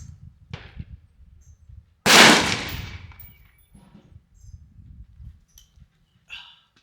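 A Ruger 10/22 rifle firing Eley Match ammunition at a 50-yard target gives a single sharp, loud crack with a short fading tail, surrounded by quiet handling noises.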